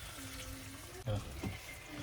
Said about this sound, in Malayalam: പിന്നെ നല്ല ചൂടുള്ള വെള്ളം കുറച്ച് ഒഴിച്ചിട്ട്